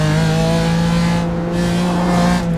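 A BMW M4 on a Nürburgring racing simulator brakes and drops down through the gears, its engine note loud and close, droning and then dipping briefly as the downshift lands.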